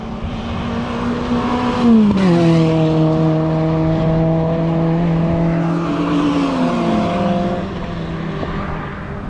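Cars including a Ferrari, Jaguar, BMW and Mercedes driving at Goodwood, one loud engine tone dropping sharply as it shifts, then holding a steady drone before easing off, close and continuous with no talking.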